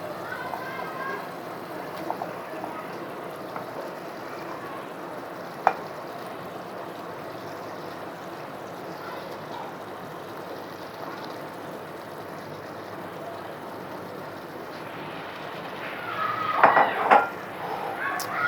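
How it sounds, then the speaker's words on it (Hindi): Chicken fries in oil and masala in a karahi with a steady, moderate sizzle throughout, joined by a few sharp utensil clinks and a louder scraping flurry near the end. "यहाँ एक दफ़ा हम अच्छी तरह अपने चिकन को इस मसाले के अंदर भून लेंगे"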